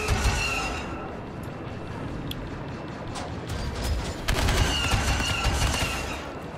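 Gunfire in the video game Star Wars Battlefront II, with rapid bursts of blaster and gun shots crackling continuously over a dense battle din, fairly loud, with no talk over it.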